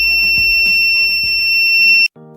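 A homemade door alarm, triggered when screws close the circuit as the door opens, sounds a loud, steady, piercing electronic tone with faint knocks beneath it, then cuts off abruptly.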